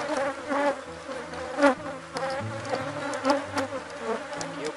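Honeybee swarm buzzing steadily at a hive, a dense continuous drone from many bees close by with small swells in loudness, no voices.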